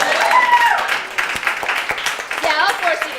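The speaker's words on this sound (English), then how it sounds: "You can clap for that" Comedy-show audience claps in a broad, steady burst that thins out, with a voice speaking over the clapping.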